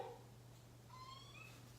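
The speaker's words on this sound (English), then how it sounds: "Hi, that's my kitty." A pet cat, recently adopted from a shelter, gives a faint, short meow indoors, heard alone against a quiet background.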